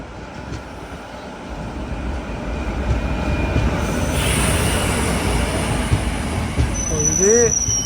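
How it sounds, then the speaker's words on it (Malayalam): A train pulls into Kumbalam railway station near a level crossing, with old blue coaches; a steady, broad rumble builds and grows louder, with a brief horn-like tone near the end and a voice faintly present. "ഇതാ ഇവിടെ ഒരു ട്രെയിൻ വരുന്നുണ്ടല്ലോ."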